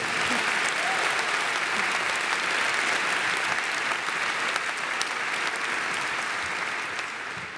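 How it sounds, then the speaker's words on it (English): A ceremony audience at a university Commemoration Day applauds steadily, dense hand clapping at even loudness throughout that fades slightly at the very end. "Professor Martin Blunt, sorry, applaud please"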